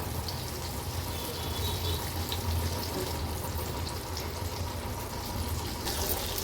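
Bombil fish frying in a pan, Agri-Koli style, with a soft, steady sizzle and bubbling held at a low, even level throughout, heard close and alone.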